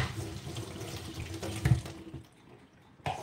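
Water runs steadily from a tap into a sink while a face is being washed, a continuous splashing stream that stops abruptly partway through and briefly resumes at the end.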